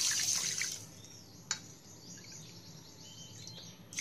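Water splashes and trickles briefly into a pan of sugar on a gas stove for syrup, a close bright pour at the start fading to faint drips, with a small clink midway.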